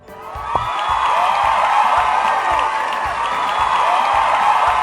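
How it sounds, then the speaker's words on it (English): A crowd of children cheers for a girl and her new furry pet, a loud sustained burst of young voices shouting and whooping together, steady for several seconds with faint clapping mixed in. "help me give a big Torah kids cheer for Siora and our new furry friend Timber"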